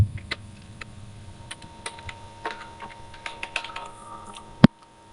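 Someone types on a computer keyboard in quick, irregular light clicks over several seconds, ending with one sharp, louder key press, close and clear.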